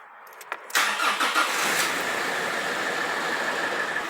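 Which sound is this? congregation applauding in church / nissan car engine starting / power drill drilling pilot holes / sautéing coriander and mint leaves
nissan car engine starting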